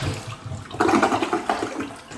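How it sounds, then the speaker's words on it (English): A Toto toilet flushing in a newly listed house: a short rush of water that swells after a brief lead-in and holds steady, close and fairly loud, with no talking. "a Toto toilet, which is one of those really amazing toilets"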